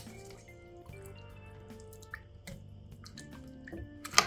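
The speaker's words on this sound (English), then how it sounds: "We're going to add our water, and we have about 3 cups of water." Water pours into a cooking pot for Japanese curry, a quiet, close sequence of splashes and drips ending in a brief sharper splash.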